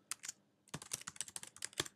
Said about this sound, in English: it's a simple case of just typing the email address